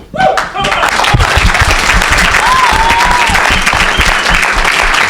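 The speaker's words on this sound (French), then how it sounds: "Donnez une grande acclamation à Jésus de Nazareth." Loud, sustained congregational applause and cheering fills a church service, with shouting voices rising over the dense clapping, a burst of sound arriving in the first half second and holding steady to the end.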